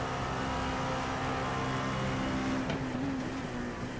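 Simulated race car in iRacing at Road America, held on the throttle through the carousel corner, a steady sustained engine drone with a sharp rising whine near the end.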